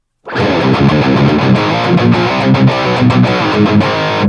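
A heavily distorted electric guitar plays a riff through a Line 6 POD XT amp modeler with cabinet simulation, loud and sustained, with a boxy, mid-heavy tone.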